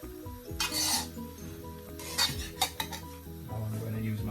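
Fried rice with mixed vegetables and egg is stirred in a pan, with spatula scrapes and metal clatter over a low sizzle, coming in irregular bursts.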